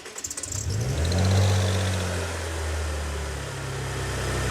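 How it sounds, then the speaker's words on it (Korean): Maserati Levante with an overheating and delayed-start fault cranking briefly and firing up, the engine revving loudly then settling into a steady close idle. "일단 시동은 걸리는데 시동을 한번 걸어 볼게요."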